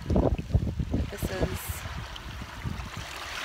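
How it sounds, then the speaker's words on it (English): Ocean shore ambience with a steady broadband wash of waves and wind noise running throughout, partly under a person speaking briefly at the start. "I don't know if you can tell that I am at the ocean right now"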